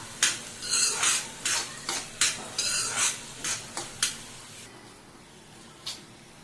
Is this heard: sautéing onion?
yes